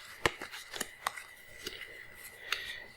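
A hand mixes a small set of playing cards with sharp, irregular clicks and snaps over about three seconds, close by and fairly quiet.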